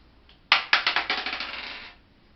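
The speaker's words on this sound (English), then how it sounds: "And I want you to roll me a 20-sided dice." A 20-sided die is thrown onto a hard surface, landing with a sharp clack and then rattling through a quick run of smaller bounces that fade out over about a second and a half.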